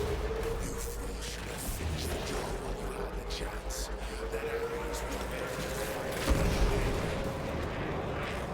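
Deadly ship turrets firing in the Warframe video game, a dense, sustained barrage of booming artillery-like blasts rumbling continuously, with one heavier burst near the end, under occasional talk.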